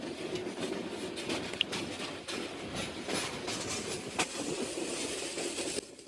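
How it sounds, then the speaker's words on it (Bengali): The Jayantika Express, a passenger train on the Sylhet to Dhaka route, heard from on board as a steady rumbling run with rhythmic clickety-clack of wheels over rail joints and occasional metallic knocks. "জয়ন্তিকা এক্সপ্রেস সাতশো আঠারো ট্রেনটি প্রতিদিন দুপুর বারোটাতে সিলেট থেকে ছেড়ে যায়"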